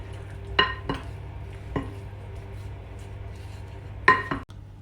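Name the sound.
stirring seasoned chicken with chili flakes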